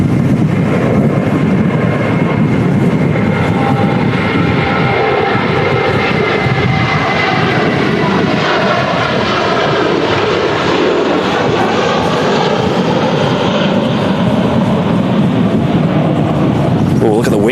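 An airliner climbs out from Manchester Airport in strong crosswinds, its jet engines a loud, continuous roar heard close. Wind buffets the microphone and someone talks over the noise.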